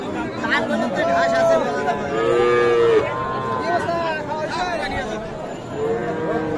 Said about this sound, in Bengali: শাহিওয়াল জাতের ষাঁড় বাছুর।